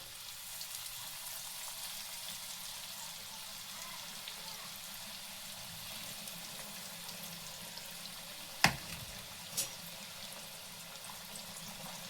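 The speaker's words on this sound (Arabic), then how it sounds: "هبتدي انزل بيها كده في الزيت وتاكدت ان الزيت سخن" Liver coated in semolina sizzles in a pan of hot oil, a steady close hiss and crackle throughout, broken by two sharp clinks near the end.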